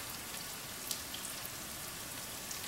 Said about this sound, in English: And I'm frying my onions together with the spring onions.